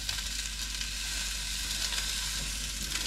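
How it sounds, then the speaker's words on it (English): Turkey sausage patties fry in a pan with grapeseed oil, giving a steady, dense sizzle that holds evenly throughout without pauses. "is frying up the patties"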